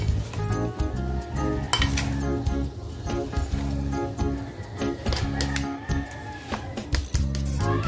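Sizzling sisig with liver being stirred in a hot pan, with steady frying hiss and repeated clinks of a utensil against the pan throughout, close and fairly loud.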